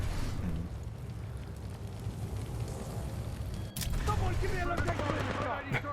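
Gunfire in the Titanfall 2 shooter game, a dense, continuous rattle of shots running throughout with a sharp burst partway through, all under a busy game soundscape.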